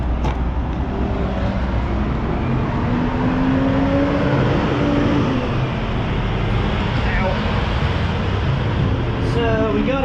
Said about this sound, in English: So we got it in here to let this truck go by.